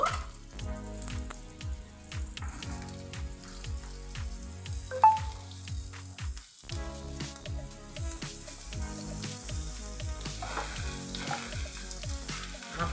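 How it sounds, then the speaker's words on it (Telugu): Bottle gourd pieces frying with onions in a pan, a continuous close sizzle with repeated stirring scrapes and taps, no speech over it. "ఇప్పుడు ఇందులోకి మనం సొరకాయ ముక్కలు వేసుకుందాము."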